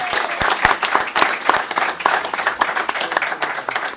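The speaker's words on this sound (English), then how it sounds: "Big round of applause." Audience applause at a South Jersey Celtic Society event, close and loud with distinct individual claps standing out over a dense crowd of clapping hands.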